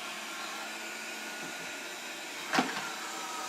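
A Proscenic 820S robot vacuum cleaner runs under a sofa with a steady, even motor whir, broken by a brief louder knock or bump near the end.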